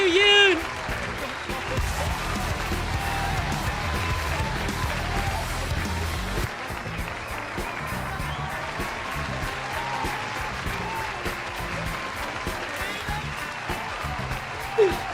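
Steady applause fills the whole stretch, a dense, continuous patter of clapping over a music bed, with a voice speaking over it.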